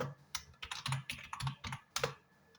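Keys clack at an irregular pace on a new computer keyboard while a password is typed, giving close, crisp taps with short pauses between bursts.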